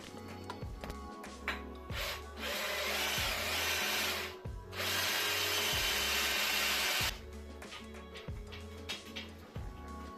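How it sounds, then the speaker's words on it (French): Power drill boring holes in a metal plate while fitting a rear shell to a moped, two sustained grinding drill runs separated by short pauses, with repeated knocks and handling sounds of tools on the workpiece around them, no talking. "je vais percer directement dans deux trous dans la plaque métal"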